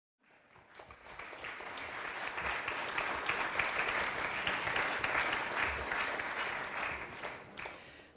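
Sustained audience applause at a conference on the centenary of the Torre de l'Aigua water tower, building gradually from the start, holding steady and dense for several seconds, then thinning out near the end.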